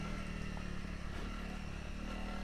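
Honda CRF300L dirt bike fitted with Hyperpro springs and oil, ridden fast off-road; a loud, continuous engine drone with wind rush and rattling, close and steady throughout.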